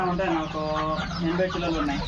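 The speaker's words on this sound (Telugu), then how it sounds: "చిన్న పొదిగిన కోడి పిల్లలు ఉన్నాయి చూడండి" Hens cluck steadily nearby while around eighty newly hatched native country chicks peep continuously on a free-range farm in Kamareddy, a busy, dense mix of fowl calls.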